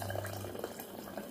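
Water pours into a pot of rice and dal in a home kitchen, making a faint, steady splashing hiss with no talking.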